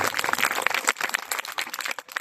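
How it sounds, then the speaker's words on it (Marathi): A crowd of students at a lecture claps in an uneven, patchy burst, individual hand claps audible within the rising and falling applause. "मुलांनी जोरदार टाळ्या वाजल्या पाहिजे मुलांच्या"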